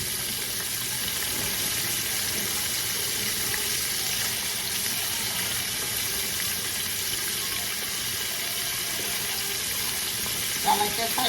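Chicken wings frying in mustard give a steady, close hiss and sizzle that runs throughout, with a brief clatter near the end.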